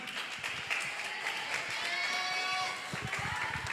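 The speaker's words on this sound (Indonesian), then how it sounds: "kita beri aplaus yang sangat meriah" Audience at a leadership training event applauds loudly and continuously, with a dense wash of clapping and a few scattered louder claps.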